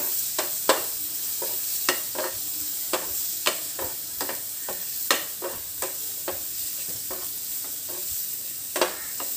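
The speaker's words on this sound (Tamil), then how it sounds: "இந்த மாதிரி நல்லா ஃப்ரை பண்ணிக்கலாம் நல்லா ஒன்றோட ஒன்று ஒட்டாமல்" Paneer and vegetables fry in a pan for pulao, with a steady sizzle under repeated sharp clinks and scrapes of a stirring spoon against the pan, close and continuous with no talking.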